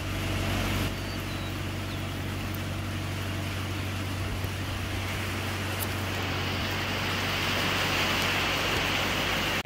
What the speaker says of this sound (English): take a second and just listen to how bad this rain is.